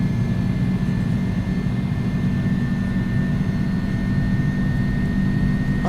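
Airbus A300-600F jet engines at takeoff power in X-Plane 11 give a loud steady roar with a constant high whine, unbroken and with no voices.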